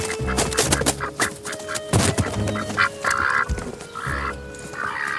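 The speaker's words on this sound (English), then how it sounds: "possibly the farm's greediest occupants, the Aylesbury duck" Aylesbury ducks on a farm quack loudly and repeatedly in a busy, overlapping chorus, with close, nasal calls coming in bursts and no talking.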